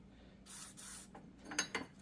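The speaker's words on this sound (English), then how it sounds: "give everything a good spray of WD-40" WD-40 hisses from an aerosol can in a garage during a Jeep Wrangler front axle rebuild: two short spray bursts, then a few sharp metallic clicks and taps nearby.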